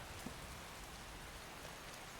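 Steady rain falls in the Skyrim video game, a continuous, even hiss of drops on the ground with no other sounds, holding a constant level throughout.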